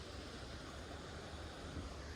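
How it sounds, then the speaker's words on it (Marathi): Water flows steadily at an old temple near Kolhapur, a continuous close wash of rushing noise with no pauses and no voices. "इथं पाण्याचा आवाज येते"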